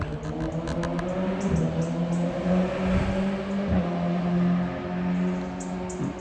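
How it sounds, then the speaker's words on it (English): Motorcycle out on a morning ride passing by at a moderate distance, its engine drone rising and falling steadily against outdoor background noise. "Somebody's out for their morning motorcycle ride."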